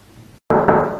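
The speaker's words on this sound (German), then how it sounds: "Klopf, klopf!" A short burst of firm knocks on a door: brief quiet, a sudden silent gap, then loud close raps that ring out, with no voices.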